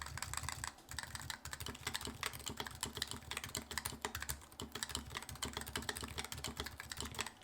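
Continuous fast typing on a DAO EC keyboard in stock condition, dense clacky keystrokes at close range with no talk throughout.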